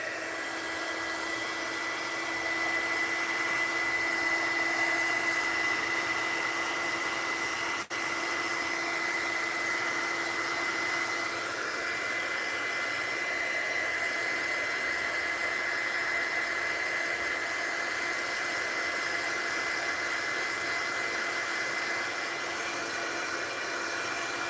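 A hair dryer blows steadily on freshly applied gold paint, a constant close whoosh with a faint tonal whine that runs unbroken without talk.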